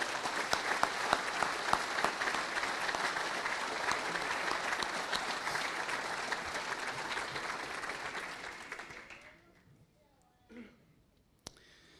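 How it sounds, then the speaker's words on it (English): An audience at a closing ceremony applauds with dense, loud clapping that holds for about nine seconds and then tapers off, followed by a few faint scattered sounds and a sharp click. "I would like us to give a round of applause to this wonderful venue."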